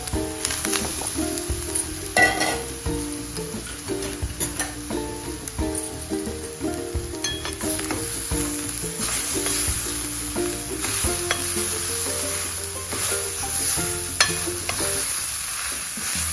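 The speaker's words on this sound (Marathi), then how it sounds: "त्याच तुपामध्ये आपण खोबरं छान परतून घेणार आहोत" Fresh grated coconut frying in ghee in a pan, a steady sizzle with stirring running the whole way through at moderate loudness, with background music playing on top of it.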